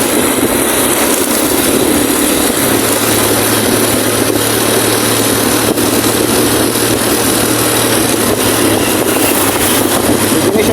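Repaired motor on a swing, running again after its bushing was replaced, gives a steady loud hum with a constant low tone and a continuous whir, no talk.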